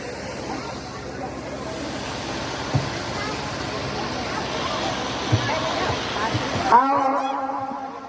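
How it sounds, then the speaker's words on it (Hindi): Sea waves wash in a steady, broad rushing roar while people talk in the background, then the sound cuts off abruptly near the end. "अरे समुद्र है"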